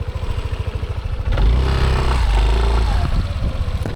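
A Yamaha NMAX 155 scooter (2025 version) ridden on a mountain road in Japan, its engine droning steadily and swelling into a louder, fuller roar midway as it pulls through cornering.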